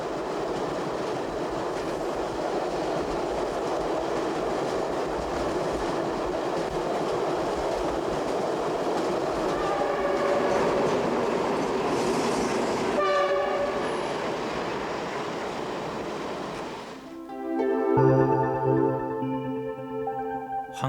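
A passenger train crossing the Yellow River, a loud continuous rumble and roll of wheels on track with rhythmic clattering, then a sharp horn blast near the end as the sound changes.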